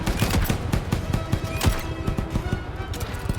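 Rapid, evenly spaced gunshots from the Roblox game War Machine, a steady close fusillade of sharp cracks running throughout, with no voices.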